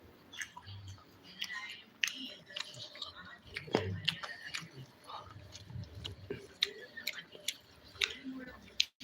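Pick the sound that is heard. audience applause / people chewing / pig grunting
people chewing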